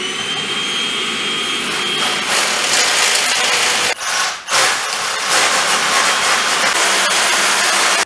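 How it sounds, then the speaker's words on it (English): An electric drill runs loudly during an indoor ethernet conduit install, a sustained high whine that briefly cuts out and restarts midway, then continues steady to the end. "He's going up with the drill again."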